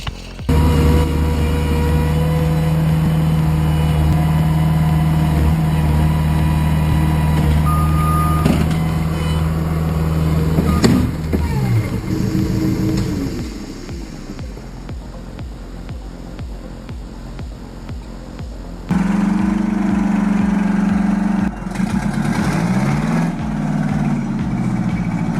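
A 1972 Mack logging truck's engine runs loud and close, with a steady low drone that drops and surges as it works, interrupted by a hiss of air brakes and repeated reversing beeps.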